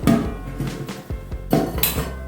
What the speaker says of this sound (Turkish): Etlerimi marine edeceğim kabıma aldım. İçine kuşbaşı etlerimi koyuyorum.